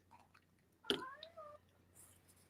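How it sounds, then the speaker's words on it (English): A cat gives a single short, quiet meow from nearby over a faint background hum, followed by soft clicks. "I just heard a pussycat."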